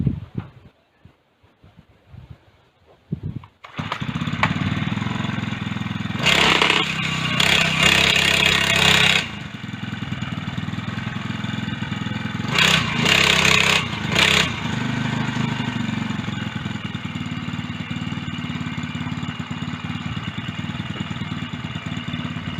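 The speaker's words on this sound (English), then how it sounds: "Now this is the last chance this bike has to run without going on the scrap heap." A motorized bicycle fitted with a 4-stroke engine sputters after a quiet start, running roughly with loud revving bursts that rise and fall, then settling into a steady uneven drone.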